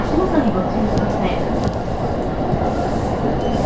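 A JR E233-1000 series electric train on the Keihin-Tohoku Line between Ueno and Oji rumbles steadily from inside the car, with wheel and motor noise and faint squeals, while a voice announces under the running sound.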